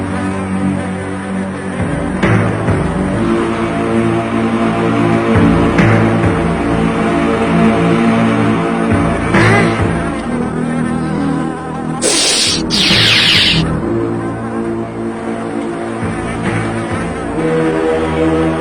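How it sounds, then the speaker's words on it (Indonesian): Wasps buzzing steadily and loudly through a cartoon scene near Mount Merapi, a continuous insect drone that sits under background music without a pause. "Wah, tawon."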